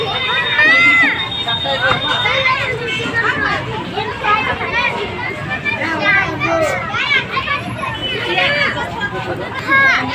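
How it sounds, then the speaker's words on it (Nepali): Crowded spot full of chattering people and playing children, their overlapping voices, calls and shouts forming a continuous loud, close hubbub throughout. "साथीहरु एकदम भिडम भिड"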